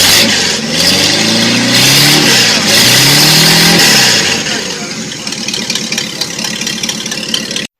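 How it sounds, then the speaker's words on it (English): An old Mopar Hemi V8, like one from a Hemi Charger or Hemi Cuda, revs loudly in several rising and falling bursts, then settles into a rough, lumpy idle. "I think it's an old Mopar Hemi, like a Hemi Charger or Hemi Cuda"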